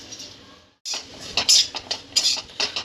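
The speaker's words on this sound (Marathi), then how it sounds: "आता आपण खोबरं भाजून घेऊ." Grated coconut roasts in a pan while being stirred for dink ladoo, a spoon scraping and tapping in quick irregular strokes, close up, after a brief pause in the sound.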